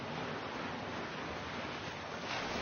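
Sea waves wash in a steady, unbroken roar of surf in a gentle bedtime-story setting, heard alone with no voices.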